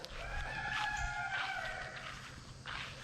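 Chickens clucking and calling outdoors at moderate distance, with overlapping tonal cries and some shuffling noise underneath.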